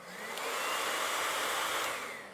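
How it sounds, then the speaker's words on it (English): Hair dryer on high blowing onto clay pottery, a steady, breathy whooshing roar that swells in and fades out over a couple of seconds, heard alone without talk. "angle your hair dryer like this, and then go ahead and turn it on high."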